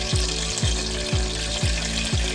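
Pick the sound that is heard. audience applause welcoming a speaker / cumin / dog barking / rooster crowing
cumin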